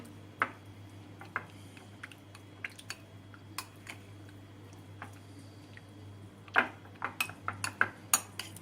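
A spoon stirs tomato paste and pepper paste with hot water in a bowl, giving quiet, scattered clinks and taps against the dish over a low hum.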